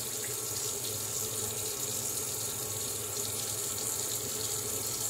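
Tap water runs steadily into a sink while shaving lather is prepared, a constant close hiss and splash that holds evenly throughout with no speech.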